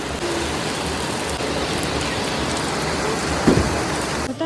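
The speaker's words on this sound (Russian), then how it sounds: "Ну что, мы дождались ливеняку." Heavy rain pouring down over a beach market on the Tuapse seaside, a dense, steady hiss of water hitting surfaces, loud and close throughout, with one brief knock partway through.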